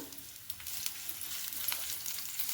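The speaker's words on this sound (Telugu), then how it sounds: "ఇప్పుడు వెల్లుల్లిపాయలు వేస్తున్నాను. పొట్టుతోనే ఒకసారి కొంచెం చితగొట్టుకుని వేసుకోవాలి." Crushed garlic, skins still on, fries in hot oil for a gongura red chilli pickle, giving a continuous close crackling sizzle with light stirring scrapes.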